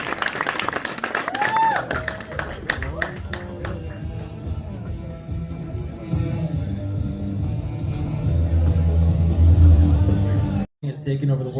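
A live music crowd applauds a band on a small studio stage, a dense spread of clapping and cheering heard near and loud, with a host's voice talking over it and a brief dropout near the end.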